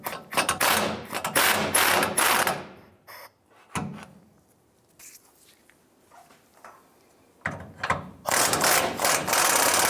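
Ratchet wrench backing out two 14mm carrier bearing bolts on a Toyota Tundra driveshaft, with bursts of rapid close clicking, a quiet pause with a single clunk in the middle, then clicking again.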